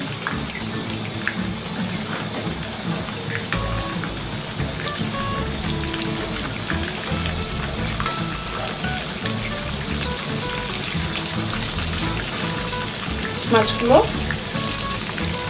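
Shrimp frying in hot oil gives a steady, dense sizzle that runs the whole time, with a brief spoken word and a small clatter near the end.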